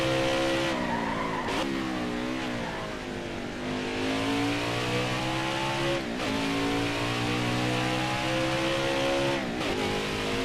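A race truck in the NASCAR Heat 5 video game at Mid-Ohio, its engine droning steadily and loudly throughout, pitch rising and dropping with gear changes and throttle through the corners.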